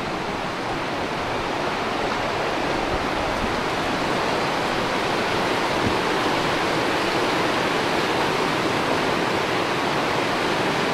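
The Rudrón river rushes past the bridge in the village of Valdelateja, Valle de Sedano, carrying plenty of water with a loud, continuous broadband roar close by.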